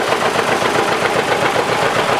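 Running engine of a family tractor kept for 61 years, rolling in a county fair parade at Whiteside County, a steady close rhythmic chugging with a dense mechanical clatter and no voices.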